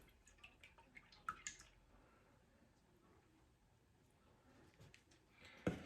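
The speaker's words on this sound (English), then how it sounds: "it's still dripping" Whey drips from yogurt being strained into cream cheese, faint irregular drops and small splashes landing quietly in a container, with a few louder ticks.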